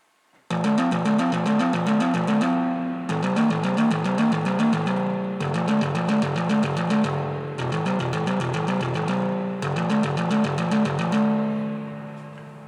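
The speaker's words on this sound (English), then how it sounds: "I'm going to put a little reverb on that using the Tascam Model 24." A repeating Arturia MiniBrute 2 synthesizer sequence of bright, buzzy arpeggiated notes in looping phrases, with reverb from a Tascam Model 24 ringing out as it stops.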